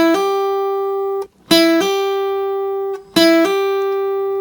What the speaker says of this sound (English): So that's called a hammer on.